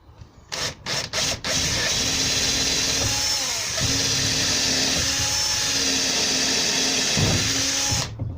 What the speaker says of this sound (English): drill a hole right through the middle and near the bottom all the way through to the other side